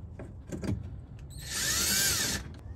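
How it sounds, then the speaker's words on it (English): A power drill tightens screws on a Mercedes E350 V6 (W212) during an oil change, a single high whirring burst of about a second following some light clanks and handling noise. "we're going to tighten the screws"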